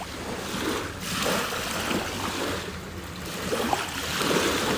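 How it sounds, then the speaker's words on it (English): Lake water at Queenstown, New Zealand laps after a passing boat's wake, a continuous soft wash and splash close by with gentle swells, no talking. "And then the waves, with that wake that has gone by of the boats, just returning to its genteel self."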